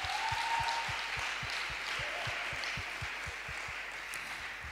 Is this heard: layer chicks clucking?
no